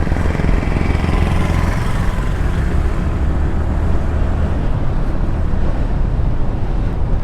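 Motorcycle engine on a leisurely bike ride, a steady low drone mixed with heavy wind rush against the microphone, continuous and close throughout.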